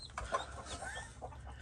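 Mother hen clucking softly to her chicks inside a coop near her nest of eggs, a few quiet, low clucks in a short, faint run with a little background noise.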